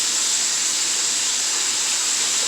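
Steady, loud sizzling hiss of Dominican chofan fried rice chunks cooking in a hot pan, a continuous bright frying noise with no pauses or talking.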